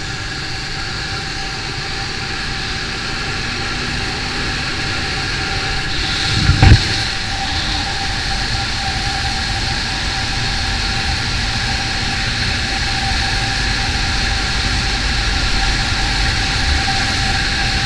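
A steady TVS Apache RTR 200 4V motorcycle exhaust drone holds throughout with a low rumble and a brief louder burst near the middle, heard alone without speech.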